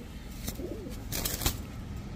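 A pigeon being held in the hand gives a soft, brief cooing over faint rustling and handling noise, quiet and close, with a few light knocks.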